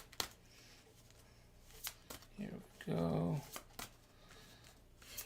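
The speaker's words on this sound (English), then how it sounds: "I'll just shuffle these cards here." A deck of playing cards being shuffled, giving short riffling bursts around a louder central flutter, close by, with a voice speaking briefly over it.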